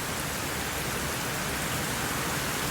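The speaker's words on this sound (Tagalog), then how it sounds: "Kaya kung magtuloy-tuloy ang ulan na ganito, ay syempre, dadami." Steady heavy rain pours down on a nipa hut, causing flooding, in a dense, continuous hiss, loud and unbroken throughout, with no voices.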